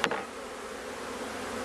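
A dense, continuous buzz of many package honeybees swarming close around their cage while being installed in a Langstroth hive, steady throughout after a brief knock at the start.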